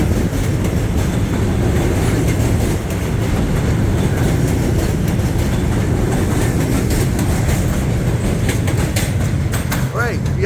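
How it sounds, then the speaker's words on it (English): A New York City subway F train rumbles past loudly on an elevated line at West 8th Street, with rattling, clattering wheels and a brief metallic squeal near the end. "Right, we have an F train."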